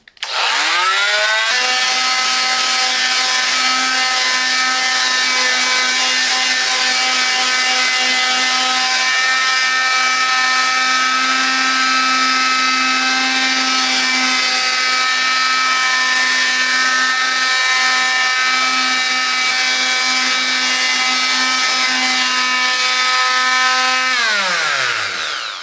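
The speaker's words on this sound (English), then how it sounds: "So first I will test the sander." A Parkside PMFW 310 multi-purpose tool sands wood with a loud, steady motor whine and buzzing hum that starts abruptly, holds evenly for about 23 seconds, then winds down.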